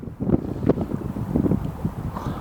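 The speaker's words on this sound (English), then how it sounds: "the wind's been really strong." Strong wind buffeting a microphone beside a carp fishing lake, low gusty rumbles and blustery bursts lasting a couple of seconds, loud and close, with no voices.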